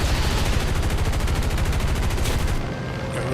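Rapid rockets and gunfire in a video game combat sequence, a dense continuous burst of sharp repeated reports that eases slightly near the end, with no talking.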